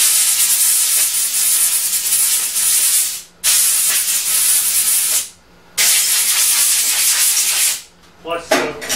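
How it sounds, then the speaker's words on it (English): Compressed air blowing off a milled fixture plate on a Bridgeport mill, loud hissing blasts in three long bursts with short gaps between, close to the listener. "We'll give it a shot of air here."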